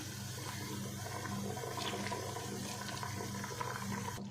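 Leftover flour mixture is poured into beef nihari cooking in a pressure cooker, giving a steady, continuous splashing pour that runs for about four seconds over a low background hum.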